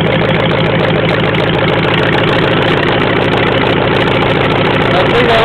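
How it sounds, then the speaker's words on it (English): A Ford flathead V8 runs after a cold start, a loud, steady, rhythmic idle with a throbbing low pulse that continues unbroken throughout. "That's definitely a cold start."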